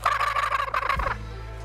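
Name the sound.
male turkey gobble imitated with a gobbler call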